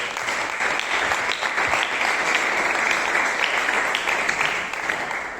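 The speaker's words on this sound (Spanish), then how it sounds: "Dale un fuerte aplauso a Dios, por favor." A church congregation applauds during a Bible class, a dense, continuous wash of clapping that stays loud and even for several seconds with no speech on top.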